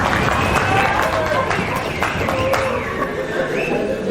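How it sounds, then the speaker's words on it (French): Audience at a lecture hall conference clapping and making noise on request, a dense continuous burst of applause with scattered whistles and shouts running for several seconds. "Vous voyez, il y a des applaudissements, c'est une manifestation collective organisée."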